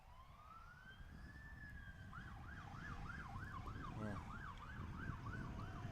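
A distant ambulance siren carries over a high school baseball playoff game, first a slow rising wail and then a quick warbling yelp, faint over steady outdoor ambience.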